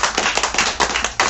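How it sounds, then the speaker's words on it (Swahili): A church congregation at a Bible study claps loudly and close, a dense burst of rapid overlapping handclaps in quick pulses lasting the whole moment. "Pigia Bwana makofi makubwa."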